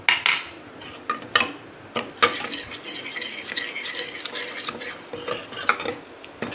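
Ground spices (coriander powder, turmeric, red chilli, garam masala, black pepper) frying and being stirred in a pan, with soft sizzling and repeated scraping clinks of a spoon against metal.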